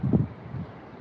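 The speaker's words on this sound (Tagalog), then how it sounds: "Malakas ang hangin" Strong wind on a terrace buffets the microphone in two short, low rumbling gusts, close and blustery, with nothing else audible.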